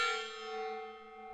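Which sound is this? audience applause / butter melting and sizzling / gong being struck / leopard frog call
gong being struck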